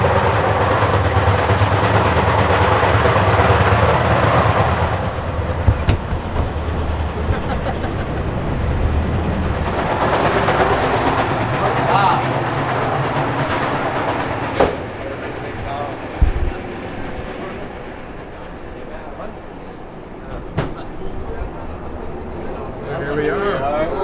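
Inside an Egyptian sleeper train running from Luxor to Giza, a constant low rumble of wheels on rails fills the carriage, with rattles and occasional clunks and knocks from the car, while people talk over it.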